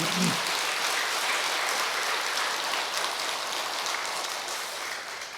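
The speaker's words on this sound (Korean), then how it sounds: "우리 호연 주지스님한테 우리 박수 한번 부탁드립니다" An assembly at a Buddhist temple claps for the head monk in a dense, even patter of steady applause that fades slightly toward the end, heard without voices.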